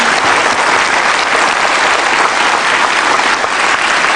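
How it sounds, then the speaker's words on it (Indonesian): Sustained applause from a large studio audience at a television talk show, dense and steady throughout with no gaps or voices breaking through. "Luar biasa, perlu tepuk tangan."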